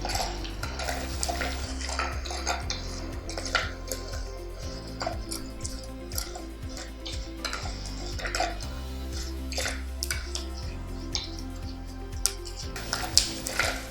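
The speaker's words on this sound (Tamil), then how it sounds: "இந்த எண்ணெயில் இது பொரியணும்." Appalam pieces and peanuts frying in hot oil in a stone pot while making appalam kuzhambu, with steady sizzling, clinks of a metal spoon or ladle against the vessel, and some stirring.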